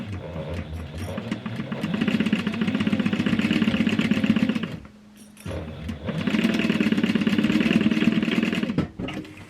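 A sewing machine stitches in reverse while a dopp bag is sewn: two steady, close runs of rapid mechanical whirring and needle clatter, broken by a short pause in the middle.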